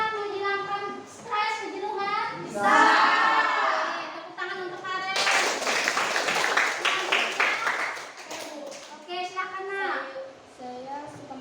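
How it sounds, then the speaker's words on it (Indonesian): A classroom of students claps briefly for a classmate in the middle of the stretch. Children's and a teacher's voices talk before and after the applause. "tepuk tangan untuk Karen."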